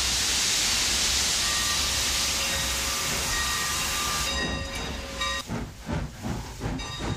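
A train starting to move releases a long, loud steam-like hiss that fades, then rhythmic chuffing pulses build as it gets under way.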